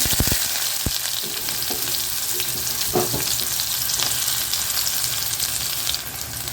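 Oil sizzles and crackles steadily and loudly as onions fry, with a few sharper pops near the start and no talking.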